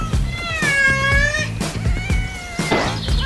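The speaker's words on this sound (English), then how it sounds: "Cat," A cat meows repeatedly, with long drawn-out wavering cries close by, set against a busy backdrop of music-like low thumps in a farm and wild animal cartoon.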